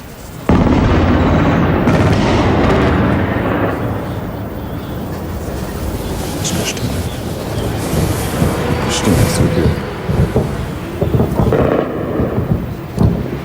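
Explosions from an air attack on Baghdad: a long, continuous roll of deep rumbling booms with sharper blasts surging through, loud and sustained, with no clear talk.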